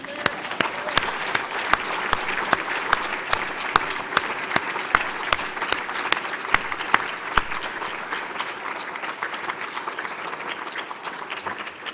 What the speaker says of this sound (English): Yes, let's clap for her.